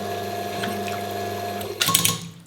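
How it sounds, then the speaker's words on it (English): Pump of a custom E61-style espresso machine running with a steady low mechanical hum and buzz, then a brief louder hiss or spurt near the end. "So you have to hold it down to make the pump run."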